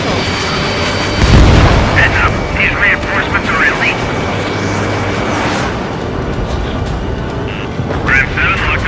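Missiles striking and exploding in the aerial combat video game Ace Combat 7, a continuous rumbling roar of blasts and jet noise with radio voices and chatter layered over it throughout.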